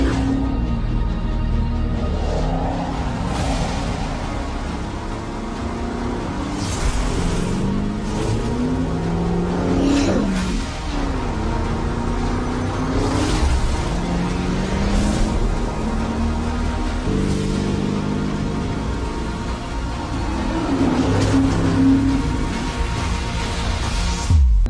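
The Audi RSQ e-tron E2 electric rally car drives on a desert rally course, a steady whining drivetrain hum with rising and falling tones and constant road and wind noise throughout.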